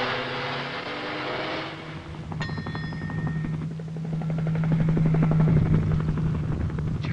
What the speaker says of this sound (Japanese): そうよ、わしの発明した携帯用ヘリコプターだ